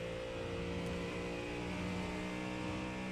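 A big V8 race car engine in the iRacing simulator revs hard and continuously, a dense, buzzing engine note held at high revs throughout, with no talk over it.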